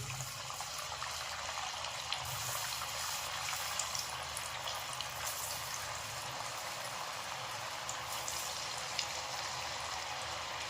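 Chana dal vadas fry in medium-hot oil with a steady, even bubbling sizzle that stays constant and fairly quiet throughout.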